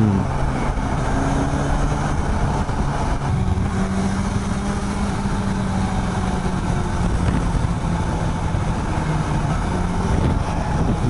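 Suzuki GSX-S750 motorcycle engine running steadily inside a road tunnel, a loud sustained hum with shifting pitch and a reverberant, echoing wash all around.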